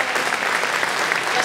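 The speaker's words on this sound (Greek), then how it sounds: "Κάντε ένα χειροκρότημα" Loud, dense audience applause fills a hall at a hospitality awards ceremony at Helexpo, continuous clapping from a large crowd without talk.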